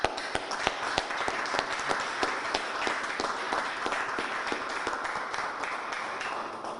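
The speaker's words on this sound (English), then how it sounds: "I want to give you a big round of applause." Audience applause for city and state teams at a Springfield infrastructure event: dense, steady clapping from a crowd, loud and sustained throughout and easing slightly near the end.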